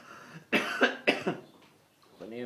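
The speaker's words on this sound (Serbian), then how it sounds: "Kako me ovaj kašalj muči." A person at home coughs in two or three harsh bursts at close range, then a short voice sound follows.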